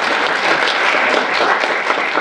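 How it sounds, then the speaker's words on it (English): A crowd applauds in a dense, continuous burst of clapping that stays even throughout. "I'd like some applause for that"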